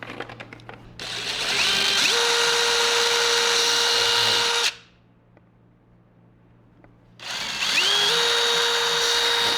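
An electric drill boring holes into a fuse box enclosure runs in two long bursts, loud and steady at close range, its motor pitch rising as each burst spins up, with a short quiet pause between them.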